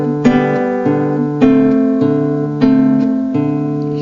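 Nylon-string classical guitar chords plucked with fingers and thumb, the thumb on an open bass string under two treble strings, for a simple country dance piece; five or six evenly spaced ringing chords, close and clear with no voices.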